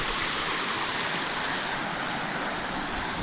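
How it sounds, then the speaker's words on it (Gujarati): A small village stream, partly fed by pipes, gives a steady, close rushing of water with no breaks and no voices. "તો આ રીતની ધાટડી નદી છે"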